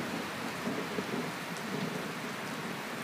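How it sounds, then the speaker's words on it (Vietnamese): Heavy rain pouring down during a thunderstorm at a Buddhist temple, a dense steady hiss of falling water with soft low thunder rumbles underneath, no voices. "Trời lại đổ mưa, sấm chớp ở trên trời,"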